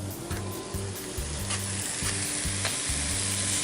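Smoked bacon and chunks of garlic sizzle loudly on a grill, a steady dense crackle with a few sharper pops and some stirring, with no voices over it.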